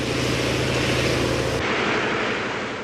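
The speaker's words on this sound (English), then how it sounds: "the noise made by the machines used to create the wind and waves" Dense, roaring rush of wind and surging water from wind and wave machines on a film set fills the whole clip, loud and continuous, with a mechanical hum underneath that cuts out partway through.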